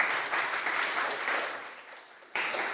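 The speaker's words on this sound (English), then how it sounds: "So let us give a big round of applause to the jury as well" Big round of applause from a conference audience at a startup summit, a dense continuous wash of clapping that swells, dips briefly and resumes loudly near the end.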